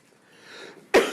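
A single sharp cough bursts out abruptly after a brief breathy lead-in, close and fairly loud, with no other sound around it.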